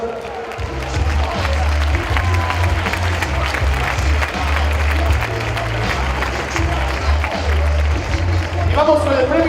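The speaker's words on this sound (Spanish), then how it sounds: "Aplauso para las campeonas." An audience at a boxing event in Asturias applauds the champions with sustained, dense clapping and crowd noise, while music with a pulsing bass plays underneath throughout.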